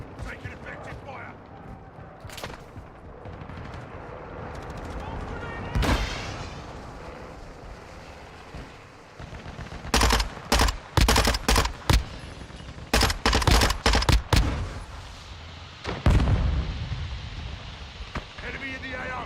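Gunfire in Call of Duty: Modern Warfare II, scattered single shots early on, then clusters of loud, close bursts. Game voice callouts are heard between and under the shooting.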